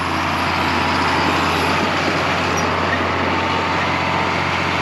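A John Deere 7800 tractor engine drones steadily and loudly throughout while it moves 1,600-pound hay bales, a constant low rumble with no breaks and no talk over it.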